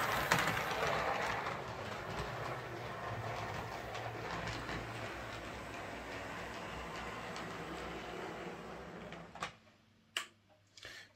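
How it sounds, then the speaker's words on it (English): A model LNER J52 locomotive hauling old BR coaches runs along a small heritage-style layout, a continuous low rumble with faint rhythmic ticking that fades near the end, followed by a few sharp clicks. "I'm running my little J52, which is LNER with these old BR, or somebody said these are LMS coaches"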